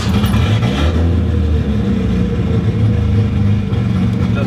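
A Datsun 240Z fitted with a Holset turbo pulls hard at wide-open throttle, its engine a loud, steady, dense roar filling the whole stretch without letup.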